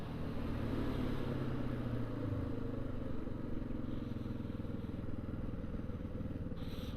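Yamaha Raptor 660 quad engine droning on a ride through cold weather, a steady low-pitched thumping rumble with faint clatter, even and sustained for several seconds at moderate distance.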